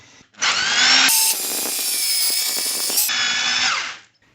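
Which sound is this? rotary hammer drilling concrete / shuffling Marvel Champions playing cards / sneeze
rotary hammer drilling concrete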